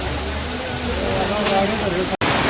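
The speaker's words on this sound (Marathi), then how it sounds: "एवढा जोरात पाऊस आलाय" Dense, steady heavy rain pours down in Murbad with a constant wash of noise, broken by a brief cut near the end, with faint voices beneath it.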